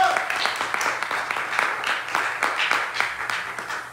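Congregation clapping during a church service, a steady stream of many hands with periodic sharper claps standing out, fairly close and loud, with some voices mixed in.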